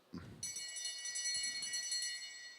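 A bell rings out at a track cycling race, a sustained bright metallic tone that starts abruptly and hangs steadily for a couple of seconds over faint background noise.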